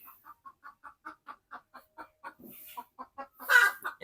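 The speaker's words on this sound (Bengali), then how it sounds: "এই যে মুরগিটা দেখতে পাচ্ছেন ও খুব চেলাচেলি করতেছে" A hen clucks in a steady series of short, evenly spaced clucks close by, ending with a louder squawk.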